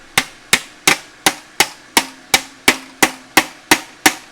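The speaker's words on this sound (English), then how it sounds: "I'm going to use the reverse curve hammer in order to move the flange over" A reverse curve hammer strikes a sheet metal flange to roll it over a wire edge on a garden pulling tractor fender, twelve sharp, evenly spaced metallic blows, loud and close, with no talk.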